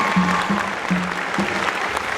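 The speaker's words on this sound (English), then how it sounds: "one more round of applause for our incredible seniors." Concert audience applauding seniors at a school pops concert, steady clapping across a hall with a few low tonal notes sounding beneath it.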